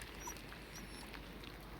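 A quick rain shower patters steadily during a walk along a wide beach at Warkworth in Northumberland, a soft continuous hiss with no voices.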